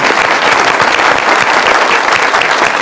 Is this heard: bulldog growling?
no